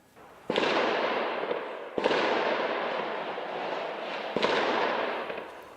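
Gunfire and blasts ring out during a police raid on terror suspects at an apartment building in a Paris suburb, three loud reports each trailing into long rolling echoes.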